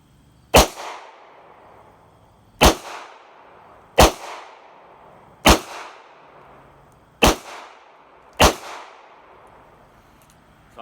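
Six sharp, loud gunshots from a Ruger LCR revolver firing .22 WMR rounds at a shooting range, spaced unevenly about one to two seconds apart, each with a brief ringing tail.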